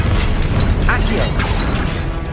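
An Accio spell is cast in Hogwarts Legacy as a short magical whoosh with popping, mechanical-sounding bursts amid dense game noise and a shouted voice.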